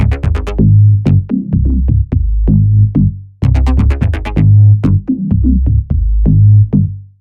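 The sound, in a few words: minimal tech house bass line made in Ableton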